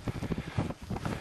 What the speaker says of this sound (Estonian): siin on tuul.